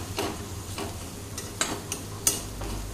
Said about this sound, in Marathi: आता हे छानपैकी मिक्स करून घ्यायचं आहे. हे बघा, अशा प्रकारे छान मसाले आपले जे आहेत ते असे छान मिक्स करून घ्यायचे.